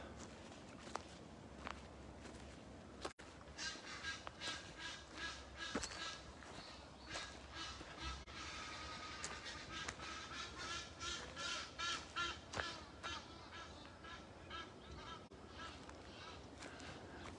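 Geese honk in a scuffle with other birds outdoors, a string of faint, irregular calls rising and falling over distant background noise.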